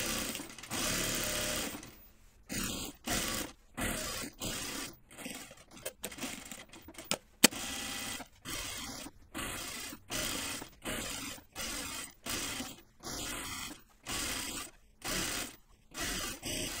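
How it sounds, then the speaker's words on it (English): Stitching around the perimeter of an unlined Wiksten Unfolding Jacket, a sewing machine runs in a long opening burst, then in a regular series of short stop-start runs, close and clear with no voices. "I'm going to stitch around the perimeter"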